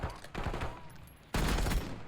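Gunfire in a competitive shooter game, with dense rapid bursts of shots in two loud stretches and a brief lull between, close and harsh.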